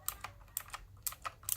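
Keys clack on a Sades mechanical RGB keyboard, a quick run of crisp clicky keystrokes in small bursts, close and clear with no talking.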